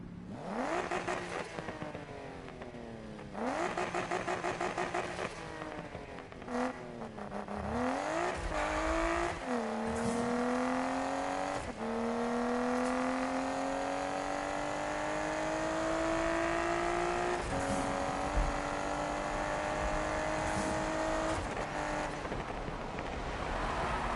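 Car engine in a PS4 racing game, fitted with an exhaust package, revving and accelerating through repeated gear changes, its pitch climbing and dropping over a loud, steady game engine drone with no talk.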